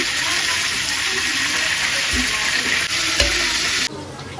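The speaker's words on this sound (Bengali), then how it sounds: "ব্রাউন কালার করে ভাজিয়ে নিচ্ছি।" Chunks of meat brown in hot oil for a roast, a loud, dense, continuous sizzle with a couple of dull thumps, cutting off abruptly near the end.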